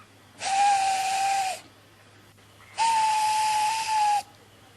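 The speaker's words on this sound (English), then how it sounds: "far away, but getting louder and louder, was the sound of an engine's whistle" Two long, loud steam whistle blasts with a hissing edge, separated by a short pause, sounding fairly close.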